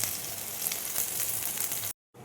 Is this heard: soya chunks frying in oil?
yes